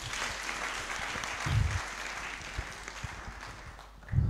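A worship service congregation applauds, with a soft patter of clapping that swells in brief louder bursts, fairly distant and without talk.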